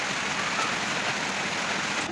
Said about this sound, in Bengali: দেখো বৃষ্টি পড়তেছে হঠাৎ করে বৃষ্টি আয় পড়ছে